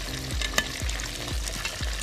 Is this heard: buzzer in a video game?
no